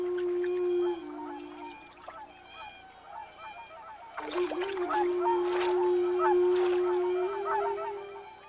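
Whooper swans in Hokkaido give loud, honking, bugle-like calls. Several birds call over one another, and the calling builds from single calls into a close, overlapping chorus.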